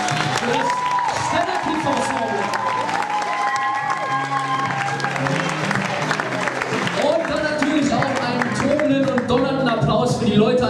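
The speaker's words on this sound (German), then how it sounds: "Einen riesengroßen Applaus." A crowd at a talent show applauds continuously through the whole stretch, the clapping mixed with cheering, musical tones and voices.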